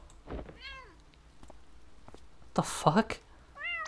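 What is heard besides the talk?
cat meowing in the video game Impostor Factory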